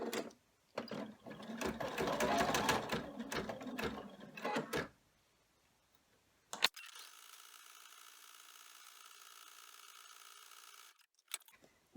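An embroidery machine stitching an in-the-hoop ID badge holder in a 4x4 hoop: bursts of rapid clattering stitches, then after a pause a steadier, quieter mechanical hum that runs for several seconds before stopping.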